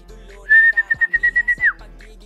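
A whistle is blown near pigeons: one shrill steady tone followed by a quick run of about eight sharp pulsing chirps, close and clear over a quiet background.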